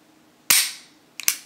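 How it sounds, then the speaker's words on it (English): A CZ 75 BD pistol's single-action trigger breaks in dry fire, giving a sharp close metallic snap, followed a moment later by a quicker double click. "here's the single action, and instantly breaks"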